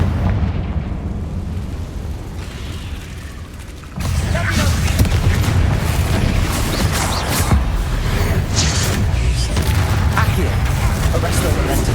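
A Confringo fire spell goes off in Hogwarts Legacy, a loud burst of explosive crackle that erupts partway through and carries on as dense, booming combat noise.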